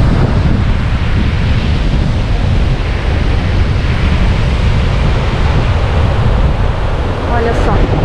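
Ocean waves at the beach in Penha, Santa Catarina, Brazil, roll in as a steady, loud broadband roar with constant wind buffeting across the microphone.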